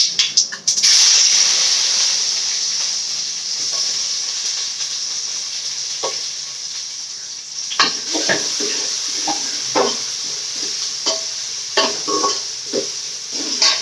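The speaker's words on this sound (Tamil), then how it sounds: "கருவேப்பிலை வெங்காயம் போட்டுக்கலாம்." Curry leaves and onion sauté in a hot pan with a loud, continuous sizzle that starts with a burst, followed by intermittent stirring scrapes and clinks close by.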